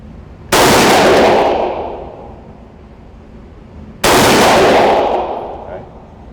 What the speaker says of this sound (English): Wow, that gun recoils like hell.